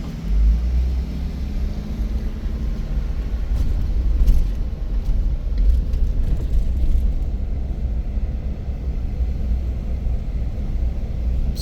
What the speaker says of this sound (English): we're slowing down for cars to let them by.